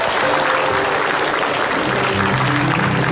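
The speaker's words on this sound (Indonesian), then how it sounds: "Oke, tepuk tangan dulu dong." Studio audience applause at a television comedy talk show: continuous, loud, dense clapping from a large crowd with faint background music underneath.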